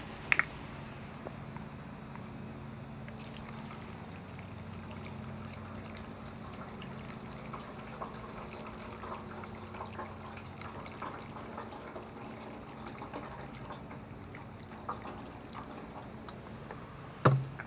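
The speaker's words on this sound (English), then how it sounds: "I'm going to get some of this stuff and I'm going to pour it right in the tank, and then I'm going to swish it around a little bit" Gas tank coating liquid poured into a Suzuki GS850 motorcycle fuel tank and swished around inside, a soft, steady trickling slosh of liquid with faint handling noises throughout.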